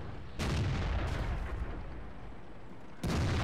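Tank cannon fire in the World of Tanks video game: two heavy booming shots about two and a half seconds apart, each followed by a rumbling tail, with no talking.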